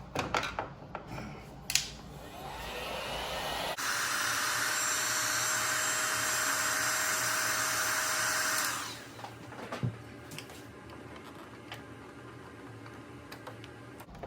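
Heat gun warming a 2014+ Toyota Tundra grill insert, a steady whooshing blower roar that switches on abruptly, runs about five seconds and then cuts off, framed by light handling clicks.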